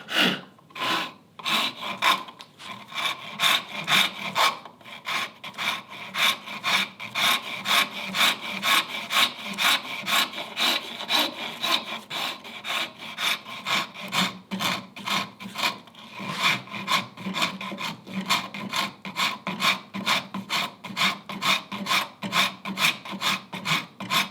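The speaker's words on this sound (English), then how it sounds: "we can start rasping these rounds" A coarse rasp scrapes steadily across wood in quick, even back-and-forth strokes, loud and close, with no talking.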